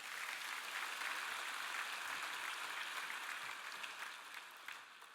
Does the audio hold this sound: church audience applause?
yes